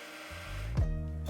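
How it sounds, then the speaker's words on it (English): An electric mixer whips cream toward semi-stiff peaks, a steady close motor whir that swells partway through as the beaters shift in the bowl. "use electric mixers or brew strength and a hand whisk to whisk until you get semi-stiff peaks"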